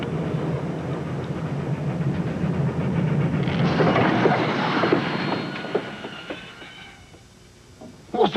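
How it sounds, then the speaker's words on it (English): The Venice Simplon Orient Express luxury train rumbling along, a broad roar that swells to a peak midway, then fades into quieter rattles and a few clanks near the end. "The Venice Simplon Orient Express, naturally the most luxurious train in the world"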